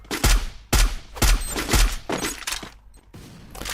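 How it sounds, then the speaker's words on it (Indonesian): A frag grenade goes off in a tournament match of a mobile shooter game, one of several sharp, loud blasts that burst out in quick, uneven succession, each thudding low and then trailing off into clattering debris and noise. "Lemparan di sana ternyata frag granat, tapi belum sempat mengenok down satu pemain pun."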